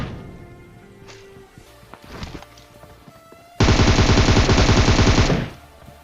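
Automatic weapon fire rings out in the battle-royale game PUBG on the Erangel map. A loud, rapid burst lasts nearly two seconds, after a few quieter scattered shots and shuffling game sounds.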